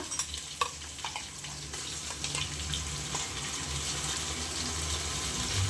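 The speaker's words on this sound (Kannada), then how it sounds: "ಪುದೀನ ಸೊಪ್ಪು ಹಾಕ್ಕೊಳ್ತಾ ಇದ್ದೀನಿ ಈರುಳ್ಳಿ ಜೊತೆಗೆ ಚೆನ್ನಾಗಿ ಫ್ರೈ ಮಾಡೋಣ" Mint leaves frying with onions in a pan for chicken biryani: a steady, close hiss of sizzling oil, with a few light stirring clicks early on. The sizzle grows slightly fuller toward the end, and no one speaks.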